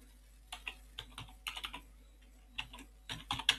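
Typing on a computer keyboard while entering text: irregular bursts of close, crisp key clicks with short pauses between, fairly quiet over a faint steady hum, no voices.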